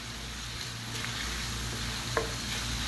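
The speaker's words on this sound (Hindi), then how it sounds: "आलू को मैं अच्छे तरीके से फ्राई कर रही हूँ" Potatoes fry in hot oil over a high flame, a constant hissing sizzle with a low steady hum beneath and one brief clink of a utensil, fairly quiet and close.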